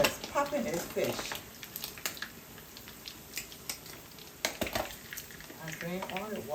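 Fish frying in a covered pot of Liberian pumpkin stew with ham hock crackles and pops, sharp irregular spits over a sizzling bed, loud and close, with a voice talking through parts of it.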